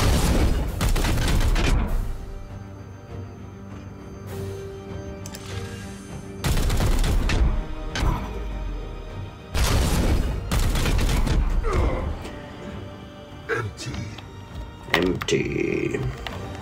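Weapons fire in the turn-based video game Chaos Gate: Daemonhunters comes as several loud bursts of shots and booms, with quieter stretches between the volleys.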